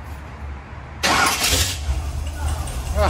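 A Corvette C3 V8, fitted with a used replacement distributor rotor after an ignition failure, cranks and catches at about one second, then runs loud and rough close by, with voices talking over the engine.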